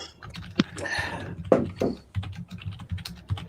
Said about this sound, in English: I'm just typing to somebody.